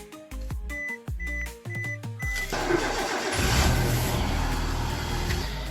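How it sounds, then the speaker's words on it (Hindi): A car engine cranks in a rapid series of starter bursts, then catches and settles into a steady idle to warm up on a cold morning. It sounds close and fairly loud. "तो सबसे पहले गाड़ी को हीट करते हैं, ये करते हैं गाड़ी हीट"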